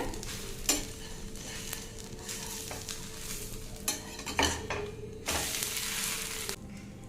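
Soya-chunk adai pancake frying in oil on a pan, a steady close sizzle broken by scraping and spatula clinks, with louder bursts of crackle as the batter is turned; no talking.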